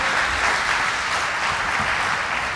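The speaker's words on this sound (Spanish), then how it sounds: "Le das aplausos, sonoro" A church congregation breaks into loud, dense applause during a sermon, a continuous roar of many hands clapping at once, close and sustained without any voice over it.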